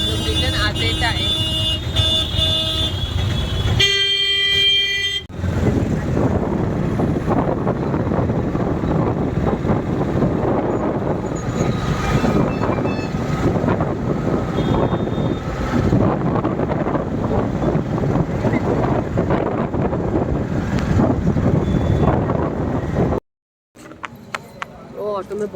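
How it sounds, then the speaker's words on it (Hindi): Auto rickshaw ride on the road after a day in Haridwar, with a constant loud engine drone, wind buffeting and road rumble, plus occasional horn toots, before a sudden cut near the end. "ऑटो में बहुत आवाज़ आ रही थी इसलिए मैंने वीडियो बंद कर दिया था"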